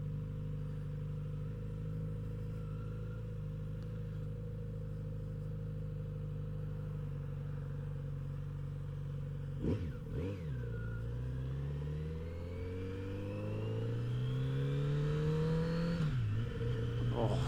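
A Kawasaki Z900 RS motorcycle engine drones steadily at a constant pitch while riding, then shifts and climbs in pitch as it revs up to a louder pull near the end, with no speech.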